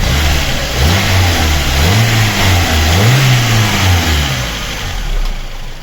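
A Renault Symbol 1.4 petrol engine, just back from a cylinder head repair and fully warmed up, revs steadily up and down in three or four smooth swells, loud and close, with no voices.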